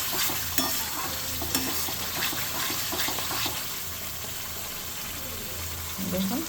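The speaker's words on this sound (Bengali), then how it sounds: "চিনি দেওয়ার পরে একটু টাইম কষাই নেব, হার্ডলি 2 মিনিট" Masala with sugar being sautéed in a pan, giving a steady sizzle with scraping stir strokes throughout and small clinks of a spoon.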